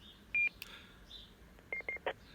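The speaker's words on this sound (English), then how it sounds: "that double beep you just heard was my other radio telling me that it's received my call." A GME UHF radio's Selcal confirmation, a clean electronic tone followed later by a quick double beep of two short identical tones with a shorter blip after, faint and alone against quiet background noise.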